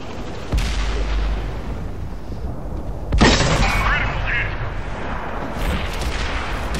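A tank's main gun fires in a video game during a hillside fight, two heavy booms about three seconds apart over steady engine rumble, the second louder and sharper, with no talk.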